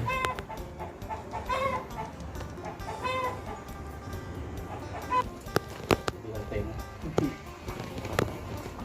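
Chickens cluck and squawk in a rural yard, irregular bursts of calls near and far, mixed with occasional sharp knocks and someone speaking Thai over part of it.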